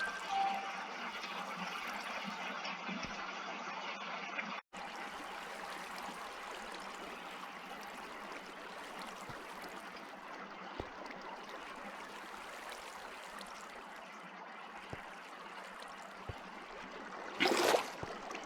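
Flowing water from a bucket in Minecraft, a steady rushing stream that runs without a break, with a brief cut partway through and a short bright splash near the end.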